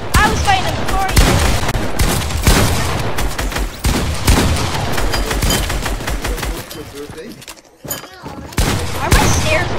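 SMG gunfire in a fast-paced online shooter game, dense rapid bursts and volleys of shots rattling almost continuously and loudly, with players' voices mixed in among the fire.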